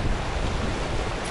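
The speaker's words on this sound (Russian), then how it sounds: "Посмотрите, с какими барашками несется река." A river swollen after a storm rushes past with a dense, steady roar of churning whitecapped water, loud and close, with wind buffeting the microphone.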